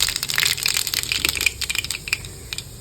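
Mustard seeds spluttering in hot coconut oil, a dense burst of close, sharp pops and crackles that gradually thins to scattered snaps.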